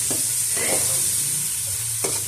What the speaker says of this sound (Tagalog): naggisa muna ako ng bawang, sibuyas, kamatis